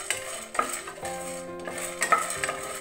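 Peanuts are stirred as they dry-roast in a pan over a medium flame, giving a few soft scrapes and light clinks against the metal. It is faint and brief.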